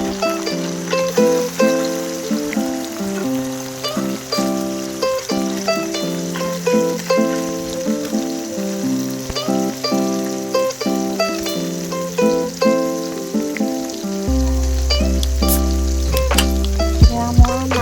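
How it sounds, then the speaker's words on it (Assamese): Small mua fish frying in hot oil, a steady soft sizzle running under loud melodic background music throughout. "এয়া মই মাছ ফ্ৰাই কৰি আছোঁ।"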